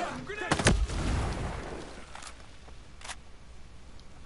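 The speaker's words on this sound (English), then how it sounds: "Throw a grenade." A grenade goes off in the video game Ghost Recon Breakpoint: one sharp, loud blast near the start, then a long fading rumble and a few faint later pops.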